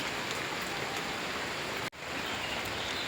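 Steady rain hisses evenly and close by, broken by a single brief dropout before the downpour resumes.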